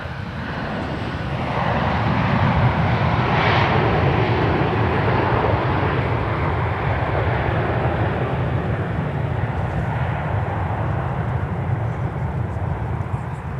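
An ex-Northwest Airbus A319 jet operating as Delta 1637 at Minneapolis–St. Paul airport, a steady broad engine roar holding loud and close for the whole stretch with no talk over it.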